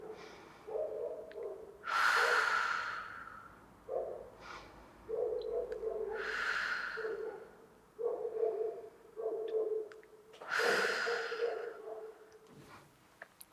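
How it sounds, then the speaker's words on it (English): Deep, slow breathing during a mobility and core workout stretch, with several loud breaths drawn in and pushed out at a steady rhythm, close to the microphone and without talk. "And 3 deep breaths here."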